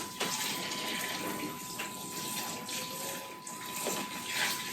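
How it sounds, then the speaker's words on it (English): Tap water, about 5 liters, is poured over malted grains for a manual beer brew, a continuous close rushing splash that holds steady throughout with no talking. "So I'm going to pour this over the grains here."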